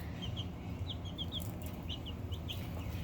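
Young chickens in a brooder give repeated short, high chirping clucks in scattered bursts over a steady low background hum, close by and with no talk.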